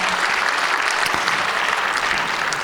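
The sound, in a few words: applause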